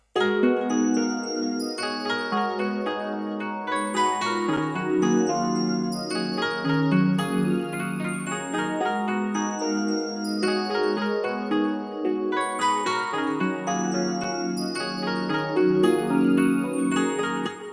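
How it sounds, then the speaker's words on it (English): A steady 90s-style R&B beat plays throughout, with a ringing bell melody over warm chords and guitar, looping evenly with no voices. "So we got the bell and the chord progression and the guitar. Let's play it all together"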